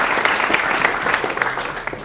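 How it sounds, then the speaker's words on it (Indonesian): Audience clapping at an on-stage event at Poltek LLASDP Palembang, a steady run of dense hand claps lasting about two seconds with sharp peaks, fairly close and loud, no voices. "Iya, tepuk tangan dulu."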